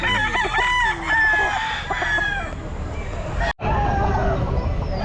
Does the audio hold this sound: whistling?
no